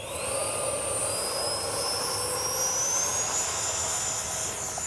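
An E-flite 64mm Viper RC jet with an electric ducted fan flies past in a steady, loud, high-pitched whine, and its pitch slowly rises across the whole clip.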